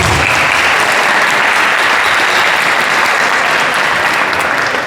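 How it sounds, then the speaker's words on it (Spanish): Dense, steady applause from a large audience welcoming two guests at a book presentation ceremony at a preparatory school, sustained and loud throughout with no break. "para los cuales también les pedimos un fuerte aplauso"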